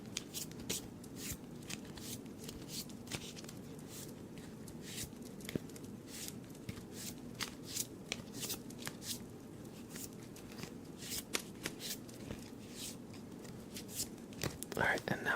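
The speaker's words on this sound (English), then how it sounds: "We're just gonna mix the cards up a bit here." A deck of playing cards being mixed by hand, giving soft, steady riffling and shuffling rustles that run throughout at a close, quiet level, with faint low murmuring underneath.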